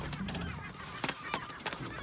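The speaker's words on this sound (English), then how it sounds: "Herring gull." Herring gull chicks held in a trailer during ringing on the Calf of Man give several short, honking calls, a few sharp bursts standing out close by over a steady background.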